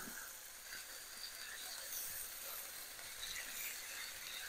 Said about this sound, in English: once the chicken has stir fried for a few minutes, basically till it's just browned and not pink, we're going to remove it from here